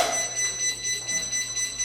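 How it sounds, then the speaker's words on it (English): A high electronic tone sounds in steady, evenly spaced pulses from a Pride Mobility Jazzy Passport power chair with a motor in neutral, faint and continuous over a quiet background hum. "the reason it's beeping right now, we probably have a motor in neutral"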